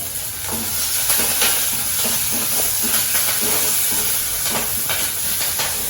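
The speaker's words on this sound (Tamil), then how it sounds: "கடுகு நல்லா பொரிஞ்சுக்கிட்டு இருக்கு உளுந்து சிவக்க ஆரம்பிச்சாச்சு இதில் வெங்காயம் அதோட கொஞ்சம் கருவேப்பிலை" Mustard seeds crackle and pop in hot oil as onion and curry leaves fry, a steady loud sizzle broken by rapid irregular spluttering pops close at hand, with no voices.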